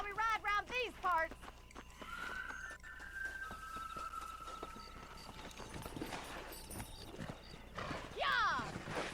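Horse hooves clip-clopping at a steady ride with a loud whinny near the end, close by, while people talk over it and music plays.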